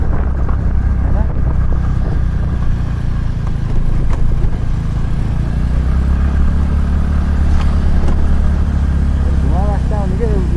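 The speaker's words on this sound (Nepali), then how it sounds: "बाइक चलाइरहेको छ" Motorbike being ridden, a continuous low engine drone with wind rumble that holds steady throughout, close to the microphone.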